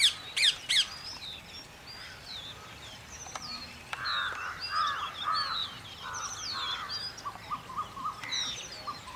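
Birds squawking and calling from a mahua tree outdoors, a parrot among them, in a series of harsh cries and chirps that come and go at moderate distance, with sharp clicks near the start.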